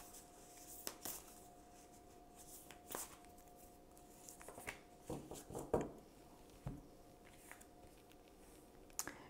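Tarot cards are shuffled by hand in soft, quiet bursts of riffling and slapping, close up, with brief pauses between handfuls.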